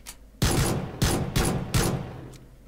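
A gun fires in PlayerUnknown's Battlegrounds, four loud close bursts of automatic fire spaced in an uneven rhythm with brief pauses between them.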